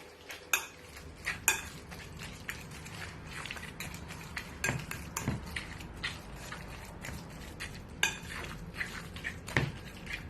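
A fork mashes and stirs homemade fish guacamole seasoned with cumin, paprika, salt and pepper, making irregular clinks, scrapes and soft squishing against a bowl, close and fairly quiet with no talking.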